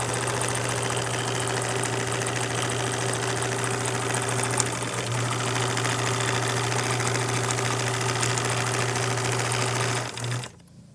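A sewing machine stitches fabric for a shoe bag, a steady close whirring hum that runs without a break for about ten seconds and then cuts off.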